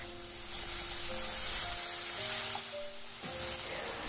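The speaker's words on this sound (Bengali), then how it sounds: "মাছগুলোকে উল্টে পাল্টে লাল করে ভেজে নেব।" Rohu fish pieces rubbed with salt and turmeric frying in mustard oil in a kadai, a steady close hiss of sizzling oil with faint tonal hum, no speech.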